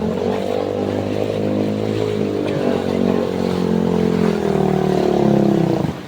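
A motorcycle engine labours loudly and steadily through deep flood water during a storm, its drone holding for several seconds before cutting out abruptly at the end.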